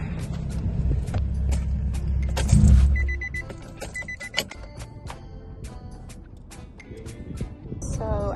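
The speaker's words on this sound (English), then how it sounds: "let me turn off the car" An Infiniti G35 is switched off. A low engine rumble fades out after about three seconds, followed by soft electronic chimes, clicks and cabin rustling nearby.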